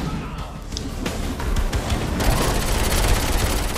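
Pistol fire in the video game Saints Row IV, dense rapid shots that build into a loud continuous barrage of cracks and impacts over game background noise.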